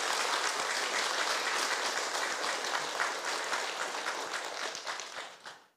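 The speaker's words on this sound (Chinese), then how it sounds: "大家鼓掌来" An audience at a ceremonial Taoist dharma assembly celebrating a deity's birthday breaks into sustained, dense applause that holds steady for several seconds and then tapers off at the end.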